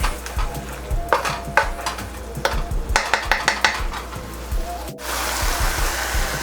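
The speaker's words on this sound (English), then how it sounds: "we got our veggies here in our wok. Stir fry these down a little bit." Vegetables stir-frying in a wok, with a steady sizzle under repeated scraping and clanking of a utensil against the pan, close and fairly loud, ending in a brief pause and then a louder burst of hissing.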